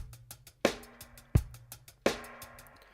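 Dub-style drum loop in a drum and bass arrangement, with a reverb send on the snare rising each hit; punchy kick and snare strikes with hi-hat ticks, snares blooming into swelling reverb tails, no talking.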